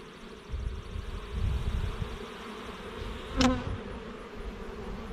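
Honey bees hum steadily on a brood frame from a hive, a dense close buzz with a brief louder swell as bees are brushed or stirred partway through.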